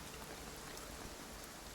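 Rain falling in the video game Infinity Nikki, a soft, even, continuous hiss of drops heard alone at low volume.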